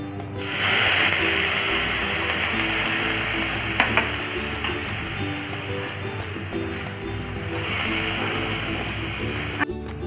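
A spoon stirs pulao mixed with fresh ginger juice in a hot pan, a steady loud scraping and sizzling texture that continues throughout, with a few brief clinks and no talking.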